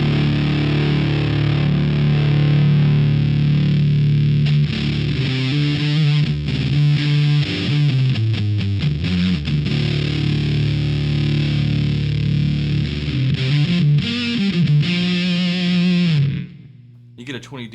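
Electric guitar played through a Stone Deaf Fig Fumb fuzz pedal while the cut/boost control is adjusted, heavily distorted sustained notes and bends shifting in tone, loud and close, ending abruptly.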